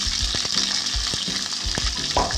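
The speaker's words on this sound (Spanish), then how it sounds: "En esta misma sartén donde ya habíamos cocido nuestra carne, agregamos un poquito más de aceite y comenzamos a sofreír nuestras cebollitas." Chopped spring onions sizzle in oil in a frying pan already used to cook beef steak, giving a steady close hiss broken by low knocks and scrapes of stirring.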